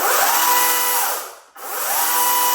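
EGO Power+ 56V battery chainsaw spinning up, a steady loud electric motor whine that cuts out abruptly midway, then revs straight back up to full speed.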